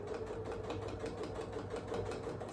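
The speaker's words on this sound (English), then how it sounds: "you're just going to sew this down like this, keeping the edges together" A sewing machine stitches quilt layers with a fast, even mechanical whir and rapid needle ticks, running steadily and close throughout with no speech.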